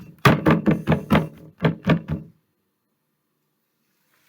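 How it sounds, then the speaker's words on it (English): Fast run of knuckle knocks on a table used as a makeshift drum roll, about nine hollow thumps in quick succession, close and loud, then silence. "you're just knocking things on the floor"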